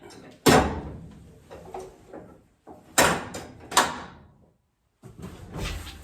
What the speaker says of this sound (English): And then unhook, lift the tailgate up and align it.